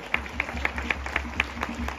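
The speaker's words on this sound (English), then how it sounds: "Now clap loudly." A congregation claps at an indoor church feast, heard as a faint, sparse patter of evenly spaced claps about four times a second over a low background hum.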